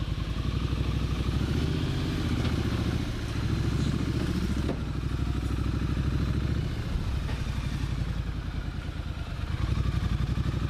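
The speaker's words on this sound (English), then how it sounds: "do a little bit of a test run on the bike that's been sitting for a while" A motorcycle that has sat unused for a while runs steadily on a test ride, its engine loud and close throughout with a continuous pulsing rumble and some mechanical clatter.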